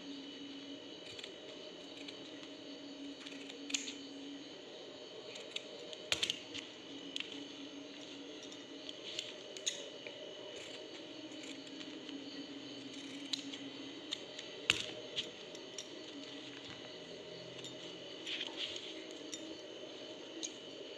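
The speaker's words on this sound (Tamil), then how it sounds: "மாஸ்க் ரெண்டு சைடும் கட் பண்ணி எடுத்துடுங்க, ரெண்டு கலர்லேயும் கட் பண்ணிடுங்க" Scissors snip through a disposable face mask in two colours for a recycled craft, giving small, scattered, fairly quiet cuts over a steady background hum.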